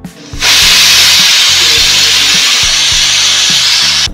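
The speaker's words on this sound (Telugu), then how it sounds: "తోటకూర 3 విజిల్లు వచ్చేసిందండి" A pressure cooker cooking amaranth leaves releases a loud, steady steam hiss that bursts on abruptly and holds without letup, with a low rhythmic rattle pulsing beneath it and no talk.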